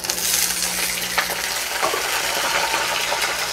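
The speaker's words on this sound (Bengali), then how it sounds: "এখন দিয়ে দেবো গোটা জিরে ফোড়ন। জিরেটা কিন্তু আমি লাল লাল করব না।" Whole cumin seeds, green chillies, ginger and garlic cloves sizzle in hot oil in a pan, a loud continuous crackling fry with occasional stirring clinks, no talking.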